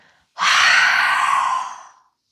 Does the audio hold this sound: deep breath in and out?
yes